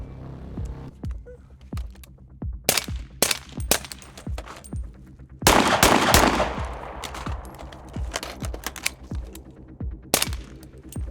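Rifle shots ring out during a night-vision shooting drill: a string of sharp, close cracks at an irregular pace, with a denser flurry of reports near the middle and a few isolated shots later.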